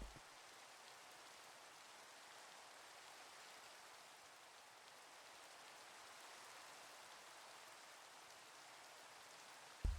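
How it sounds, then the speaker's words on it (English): Rain falls in the game Minecraft as a soft, even hiss that stays constant and fairly quiet throughout. "It's raining again."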